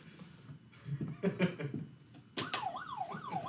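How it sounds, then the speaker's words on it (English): An ambulance siren wails in a rising and falling pattern, starting after a few faint sounds and continuing loudly to the end. "that's the ambulance taking me to the hospital"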